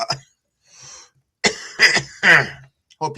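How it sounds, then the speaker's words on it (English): A few harsh, close coughs in quick succession, preceded by a short breath, with brief pauses between them. "listening to me cough in your ear"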